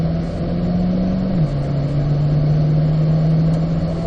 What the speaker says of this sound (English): And then we accelerate out to the left